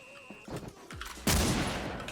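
Gunfire in the Wolfteam online shooter breaks out as a dense, loud burst of rapid shots after a few quieter in-game sounds, then keeps going steadily.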